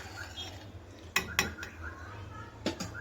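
A ladle stirs a sugar mixture in a metal pot for homemade ice cream, giving a few distinct scraping clinks against the pot in an otherwise quiet kitchen.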